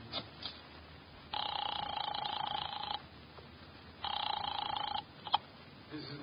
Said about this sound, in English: I grabbed the office phone and dialed Wolfe at once.